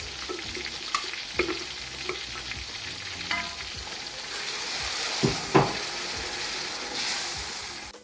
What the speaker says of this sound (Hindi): अब इसमें डाल रहे हैं प्याज, हरी मिर्च और धनिया का पेस्ट। तो उनको भी थोड़ा सा फ्राई कर लेंगे।